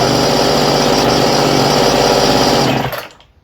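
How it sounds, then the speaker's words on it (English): A cheap weed whacker's small two-stroke engine runs loud and steady up close, a high buzzing drone that cuts off and fades away at the end. "it's not a great weed whacker in the first place"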